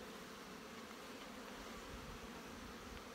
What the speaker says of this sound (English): Whoops, spilled some bees on me.